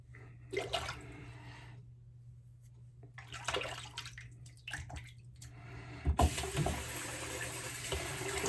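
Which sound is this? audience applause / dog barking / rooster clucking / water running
water running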